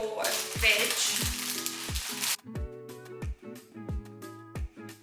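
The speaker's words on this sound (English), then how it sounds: "you want to keep stirring that mixture" Maggi ramen noodle mixture sizzling loudly in a pan for a couple of seconds, then fainter frying under music with a steady repeating beat.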